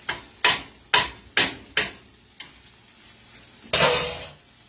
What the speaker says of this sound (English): Get a little butter in my pan for the eggs.